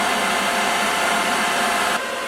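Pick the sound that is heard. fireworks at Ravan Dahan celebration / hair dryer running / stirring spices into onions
hair dryer running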